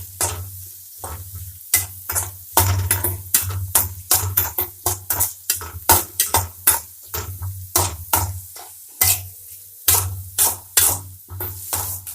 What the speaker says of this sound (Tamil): பச்சை மிளகாய், கருவேப்பிலை, உப்பு, இஞ்சி பூண்டு விழுது இது எல்லாத்தையும் சேர்த்து நல்லா வதக்கிக்கோங்க.